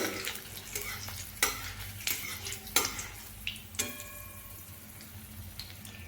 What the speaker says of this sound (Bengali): এইবার এখানে আমি একটি কাঁচা লঙ্কা আর দিয়ে দিচ্ছি কালো জিরে এইভাবে একটুক্ষণ কয়েক সেকেন্ড আমি নেড়ে নেব